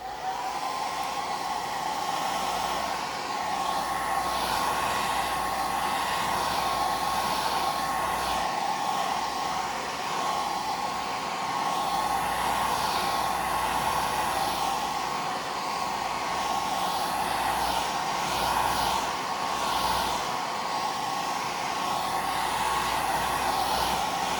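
A hair dryer runs continuously to dry gold ink, giving a steady, loud, close whirring blow that holds an even level for the whole stretch with no speech.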